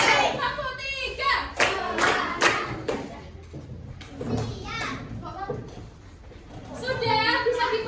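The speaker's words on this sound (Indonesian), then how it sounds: "Tepuk 1, tepuk 2, tepuk 3" Classroom students clap in rhythm several times in quick bursts, mixed with children's chatter and a teacher's voice nearby.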